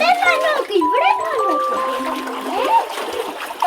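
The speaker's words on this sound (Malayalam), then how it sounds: "ഇതിൽ നിന്ന് ഇങ്ങനെ വരുന്ന വെള്ളം കണ്ടോ" Water splashes and flows from an outlet in a village setting, a steady wet wash heard under close voices and children talking throughout.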